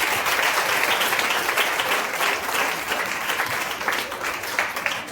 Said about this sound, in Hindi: जोरदार ताली बजाएं, तारीफ करें।